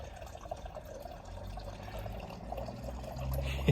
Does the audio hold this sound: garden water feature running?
yes